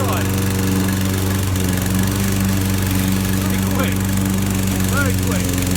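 A self-propelled, front-wheel-drive petrol lawn mower runs loudly and close by, its engine droning steadily with a constant vibrating hum throughout, with a few faint squeaks above it.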